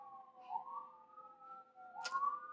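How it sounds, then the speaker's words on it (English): A siren wails faintly in the distance near a hospital, its tone sliding up and down in long sweeps, with a brief sharp burst partway through. "I apologize for the sirens."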